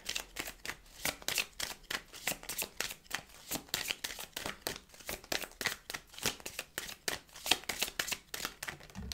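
Oracle cards being shuffled by hand, a rapid run of close riffling bursts in a quick, regular rhythm, with no voices.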